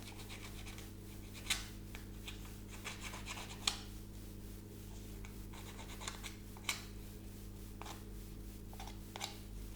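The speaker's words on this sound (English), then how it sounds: "Sometimes I use another scraper and just scrape" A scraper rasps excess filler off a primed surface in a series of short, sharp scraping strokes, several louder swipes standing out over a steady low electrical hum, close by and unaccompanied by talk.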